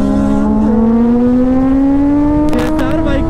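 Motorbikes riding past on a road, heard as a loud, steady engine drone that rises slowly in pitch, with a brief extra burst of noise near the end and faint talking underneath.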